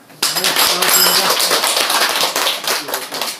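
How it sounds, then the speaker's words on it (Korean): A group at a year-end general meeting of the Cheongtap association in Sanjeon village, Namcheon, Gyeongsan, clapping in welcome, with dense, sustained hand claps that start abruptly and continue loudly throughout, mixed with some voices. "우리 환영의 뜻으로 박수 한번 칩시다"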